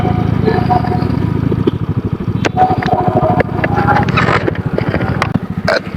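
Loud motorcycle exhaust from a touring bike on a 650 km endurance ride, a steady throbbing, close-up engine rumble that carries through the whole stretch with a few sharp clicks and knocks on top.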